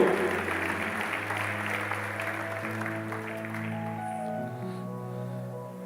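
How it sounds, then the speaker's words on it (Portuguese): Worshippers in a church applaud in a soft, continuous patter that gradually thins, beneath sustained worship music chords that carry on after the clapping fades. "eu quero convidar você a aplaudir esse Deus maravilhoso, soberano, excelso, sublime, majestoso"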